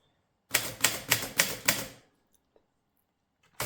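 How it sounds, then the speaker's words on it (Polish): A Rheinmetall KST typewriter is typed on, with five sharp, evenly spaced key strikes that each ring out briefly, followed by a quiet pause with a few faint ticks and then another clack at the end. "Czcionki ładnie pracują, wózek się przesuwa bez problemów."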